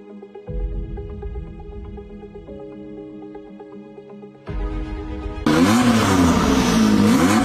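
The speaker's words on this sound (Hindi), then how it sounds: "बाइक आ रही है, रोको उसे।" A motorbike approaches on the road, its engine suddenly bursting in loud and revving hard over the last two seconds, after a stretch of background music with no engine.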